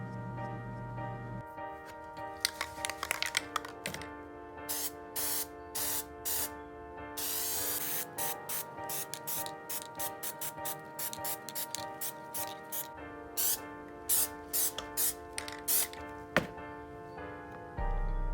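A homemade kunai is spray painted with repeated short hissing bursts of an aerosol can, some long and some brief, over a steady tonal background hum, near and fairly soft, with no talking.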